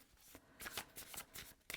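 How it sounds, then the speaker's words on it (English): Tarot cards riffle and flutter in several quick shuffles, soft and close, with short breaks between each pass. "let's do a couple shuffles."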